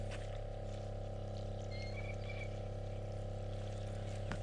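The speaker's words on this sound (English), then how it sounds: "First procedure is to fill the holes with water, even though it's muddy out." Water pours steadily from a tank wand into muddy planting holes in a wet pepper field, a continuous gushing stream under a constant low mechanical hum.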